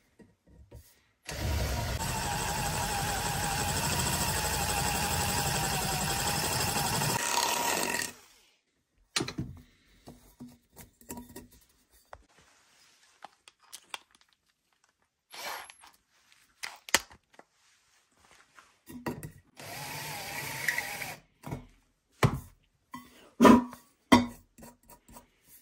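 A power drill whirs steadily for several seconds as it drills into a plastic bottle, then stops, followed by scattered knocks and handling clatter.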